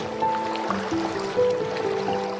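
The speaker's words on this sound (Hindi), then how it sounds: "जिसकी वजह से नाव में पानी भरने लगा और नाव डूबने लगी।" Water gurgles and pours into a sinking boat as a short sound effect, a close, bubbling fill with sloshing swells and rising tones that hold steady throughout.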